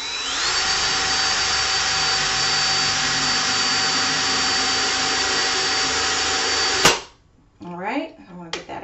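A power drill bores a pilot hole for a window treatment rod, a loud, steady, high whine that cuts off abruptly after about seven seconds, followed by brief quiet and a few short sounds.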